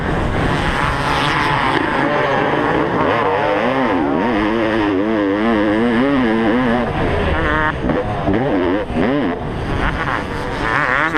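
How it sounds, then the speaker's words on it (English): A field of two-stroke motocross dirt bikes, including a 32-year-old Honda CR500 and modern bikes, races around a hillside track. Several engines rip and wail at once, rising and falling in pitch as they pass close and loud. "Field full of 2-strokes ripping around."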